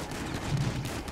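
Gunfire in Grand Theft Auto 5, a dense burst of rapid shots crackling continuously through a short stretch, loud and close with a rough, noisy texture.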